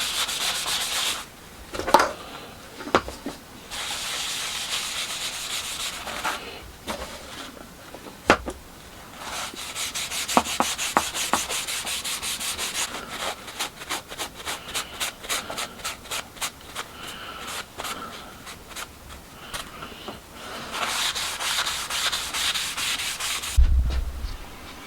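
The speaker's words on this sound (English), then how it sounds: "give it some Danish oil just to finish it, bring out the grain a bit on the various bits of timber" Cloth rubbing Danish oil into assorted pieces of timber to bring out the grain in a small workshop shed, a close, steady scrubbing and wiping texture with repeated strokes, some quicker bursts toward the middle, and no talking.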